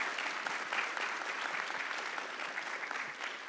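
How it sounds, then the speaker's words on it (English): An audience in a conference hall applauds after a closing keynote, with broad continuous clapping that fills the room evenly and fades slightly toward the end. "just want to acknowledge her with a big round of applause from the folks in this room"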